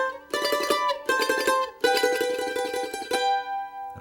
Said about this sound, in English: With a little tremolo picking.